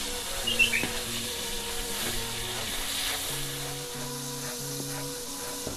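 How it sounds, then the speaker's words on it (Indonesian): Salted peda fish sizzles and crackles in hot oil with a constant frying hiss, while quiet background music plays. "Dan selanjutnya saya akan menggoreng ikan asin peda"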